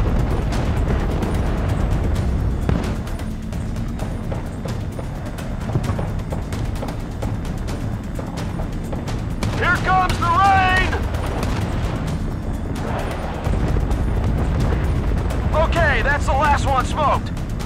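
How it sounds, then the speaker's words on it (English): Artillery strike in Battlefield: Bad Company brings a steady barrage of deep booms and crackling gunfire, loud and dense throughout, while voices talk over it at times. "Fire inbound on target. Stand by for impact."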